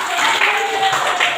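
A school class claps together for a short moment, a brief patter of hands in a classroom that fades quickly.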